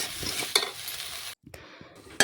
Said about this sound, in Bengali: নাড়াচাড়া করে আমি বেশ কিছুক্ষণ একটু রান্না করে নিচ্ছি